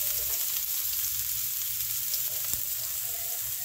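Garlic sizzling steadily in hot oil, a continuous close frying hiss with light stirring, loud and alone without talk.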